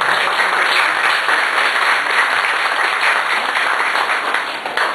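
A dense, loud wash of audience applause at a women's association ceremony welcoming their director, sustained evenly from start to finish with no pauses, fading slightly at the very end.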